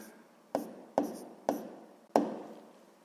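Pen or chalk writing down a math answer for a sixth-grade fraction exercise: four short, separate strokes, close and distinct, in a quiet room.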